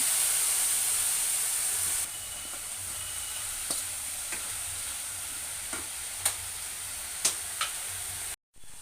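A steady sizzle of banana flower frying in a pan, with occasional light scrapes and taps of a spoon stirring, fairly quiet and close.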